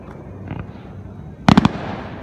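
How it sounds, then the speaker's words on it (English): Fireworks set off from a barge on the river at the Madison Regatta sound as a faint early pop and then a close burst of three or four sharp cracks, over a low crowd murmur. "There is the barge with the fireworks."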